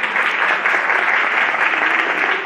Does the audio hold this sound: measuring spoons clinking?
no